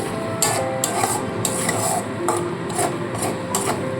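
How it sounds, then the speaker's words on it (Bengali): Spice paste for a pointed gourd and prawn curry, sautéed with a splash of water as a spatula scrapes the pan in repeated quick strokes over a low sizzle, close up. "এবার মশলাটাকে খুব ভালো করে প্রথমে কষিয়ে নিতে হবে"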